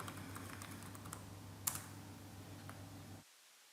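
Computer keyboard keys clicking as a username and password are typed, a quick faint run of light taps over a low hum before going quiet.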